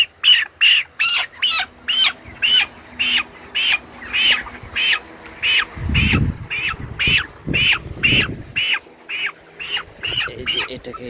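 Chickens at a poultry farm squawk in a steady, repeating series of sharp calls close by, with brief rustling and handling bumps partway through and someone talking over them.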